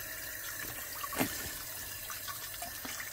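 Water drains out of a central heating system in a faint, steady trickle and gurgle, with one brief louder splash partway through and no talking.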